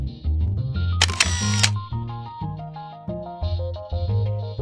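A camera shutter clicks once in a virtual fitting room app, a brief bright burst set against steady electronic music.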